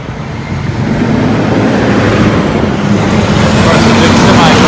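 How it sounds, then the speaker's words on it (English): A big semi truck passes on a road through a small town, a broad steady engine-and-tire roar that swells after the first half second and stays loud and close to the end, with no talk over it. "the big semi going by right there"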